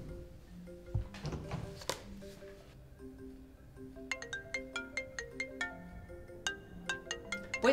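A mobile phone ringtone plays in a classroom, a melodic electronic tune of quick repeated notes starting midway after a few soft thumps, fairly close and clear, with no talk over it.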